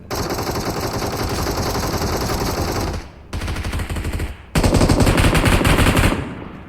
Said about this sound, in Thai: ขอยิงก่อน